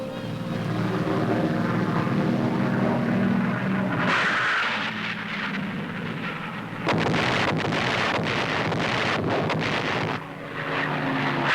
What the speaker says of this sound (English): A Navy plane fitted with rocket racks is loaded up.